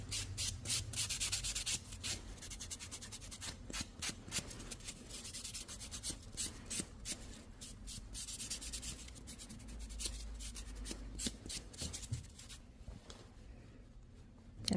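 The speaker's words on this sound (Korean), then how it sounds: "자, 표면 살짝 울퉁불퉁하니까 샌딩 작업." Nail file sanding an uneven toenail surface during a home pedicure, close rapid back-and-forth rasping strokes repeating steadily with brief pauses, soft and alone.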